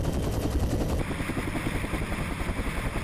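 A military helicopter carrying a Marine special-operations team hovers about 7,000 feet up over a parachute jump point, its loud steady rotor chop and engine drone filling the whole stretch, with no voices.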